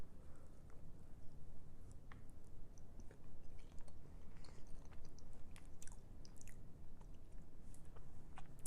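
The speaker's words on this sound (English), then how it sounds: "Bite it in half first or pop the whole thing in my mouth?" Hot cocoa flavored Christmas candy being chewed: faint, close, continuous soft mouth sounds and crunches with small clicks, no talking.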